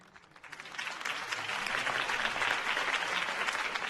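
Crowd applause in Batman: The Telltale Series swells, rising quickly to steady, sustained clapping that fills the space.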